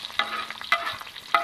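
Salted pork fat is stirred as it fries in a cast-iron pan, a close, continuous crackling sizzle broken by sharp scraping strokes at a steady pace.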